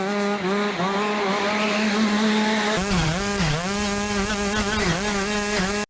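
A go-kart fitted with three engines drifts with a loud, sustained engine whine that rises and dips in pitch, steady and close throughout with no talking.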